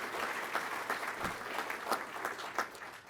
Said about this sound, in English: a special round of applause for our support personnel